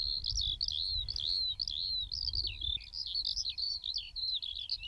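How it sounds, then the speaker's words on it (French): Birds singing at sunrise, a continuous high string of bright chirps and trills carrying over a low rumbling background, clear and lively. "Mais ils chantent tellement fort"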